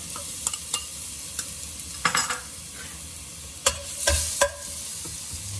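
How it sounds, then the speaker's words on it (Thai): Garlic in oil sizzles softly and steadily in a pan over low heat, with a few scraping stirs and light clicks of a utensil. "เอากระเทียมเจียว กระเทียมลงไปเจียว ไฟอ่อนๆก่อน"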